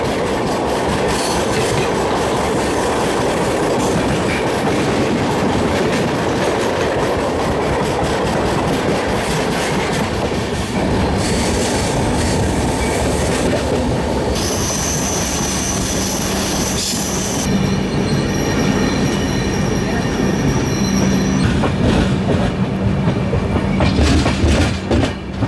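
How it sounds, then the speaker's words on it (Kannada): An express train bound for Dadar Central passes close by on an Indian railway line, a loud, continuous rumble of wheels with clickety-clack beats and rising metallic squeals partway through, building toward the end with no talk. "ದಾದರ್ ಸೆಂಟ್ರಲ್ಗೆ ಹೋಗುವಂಥ ದಾದರ್ ಸೆಂಟ್ರಲ್ ಎಕ್ಸ್ಪ್ರೆಸ್ ಪಾಸಿಂಗ್ ಆಗತ್ತೆ ನೋಡ್ರಿ"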